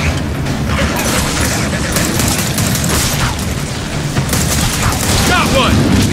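Gunfire bursts in a video game, dense and continuous under loud game sounds and shouting players, with crashes and rumbling booms mixed through the six seconds.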